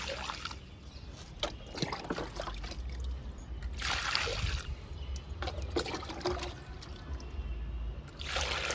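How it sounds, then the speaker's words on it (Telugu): Water trickles and splashes steadily onto a potted lemon plant freshly topped with new soil, a soft continuous pour in the outdoor garden with brief louder gushes. "వాటర్ ఇస్తున్నాను నిమ్మ మొక్కకి."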